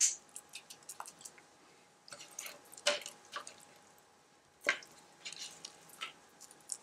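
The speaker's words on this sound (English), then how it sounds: "now we're going to mix our tofu mixture into our sauteed vegetables" Tofu mixture being folded into sautéed vegetables in a bowl, giving soft, wet squelches and squishes in irregular bursts, close and fairly quiet, with no talking.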